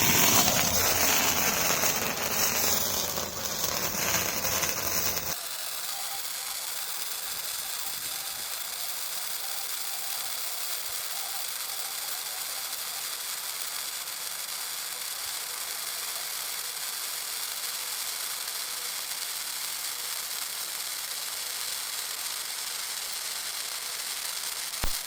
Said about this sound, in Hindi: चलिए इस फुलझड़ी को भी टेस्ट करके देखते हैं